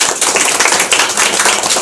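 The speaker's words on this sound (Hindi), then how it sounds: "पिंटू के लिए ताली बजाइए जोरदार" Loud, steady applause from a crowd at a school results ceremony honouring a student, a dense continuous patter of many hands clapping close by, no voices.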